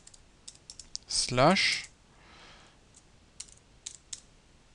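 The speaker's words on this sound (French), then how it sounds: "je vais taper ici par exemple" Keyboard typing on a computer, scattered light clicks and short bursts of keystrokes, with a brief spoken word in the middle.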